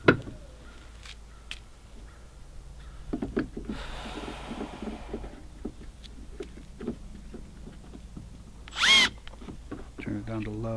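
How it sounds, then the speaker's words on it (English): A power drill whirs in a short, loud burst, drilling out holes while installing a battery isolator on a Polaris Ranger, among scattered clicks and handling knocks from nearby work. "I got to drill out the holes."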